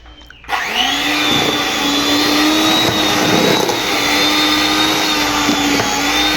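An electric grinding machine milling lentils starts abruptly and settles into a loud, steady motor whine with a strong hum, running on without pause as it heats up.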